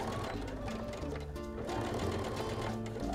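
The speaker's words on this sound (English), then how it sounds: "Close that back up, go back to the top, and re-sew that part in place." A sewing machine stitches steadily, re-sewing the seam of a quilted zipper bag. It is a close, continuous mechanical whir with rapid needle chatter and no speech over it.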